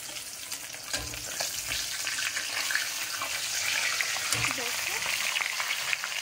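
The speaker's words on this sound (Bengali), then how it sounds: "মাছ ভাজা করছি" Market-bought fish frying in a pan in a home kitchen, a continuous close sizzle and crackle of hot oil that swells slightly, with a few faint clatters.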